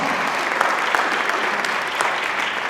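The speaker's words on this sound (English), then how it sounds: "Feel free to cheer. Cheer all night long, please." An audience at a high school winter vocal concert applauds and cheers, a dense, sustained wash of clapping with scattered sharper claps.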